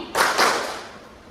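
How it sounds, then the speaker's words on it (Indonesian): Children in a classroom clapping game strike their hands together in two quick, sharp bursts that ring briefly in the room and fade. "artinya kalian menepuk tangan kalian sebanyak mungkin"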